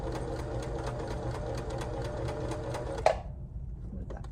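Sewing machine stitching down a fabric waistband, running in a steady fast needle rhythm for about three seconds, then stopping abruptly with a brief click and quiet afterward.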